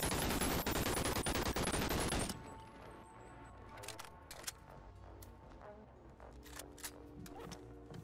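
Pistol fire in the VR game Bonelab: a dense burst of rapid loud shots at the start, then scattered single sharp cracks and clicks over a quieter background.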